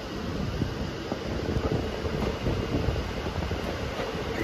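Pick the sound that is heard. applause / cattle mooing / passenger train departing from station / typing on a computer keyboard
passenger train departing from station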